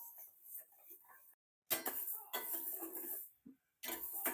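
Green gram being dry-roasted in a pan and stirred, with intermittent metallic scraping and clinking of a utensil against the pan in short bursts separated by brief silences.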